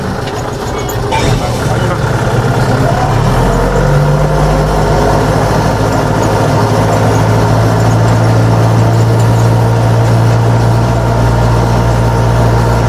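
A Scout 404C tractor engine drones steadily with deep low rumble and a rising pitch, loud and close throughout, with a voice speaking over it.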